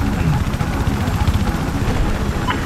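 A helicopter in the video game Battlefield gives a loud, continuous rotor thump and engine whine that stays close throughout, with a voice talking over it.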